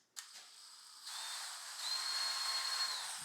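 A power drill mixing material during a fish room build gives a quiet, steady high whine and hiss that rises after a brief click and holds continuously.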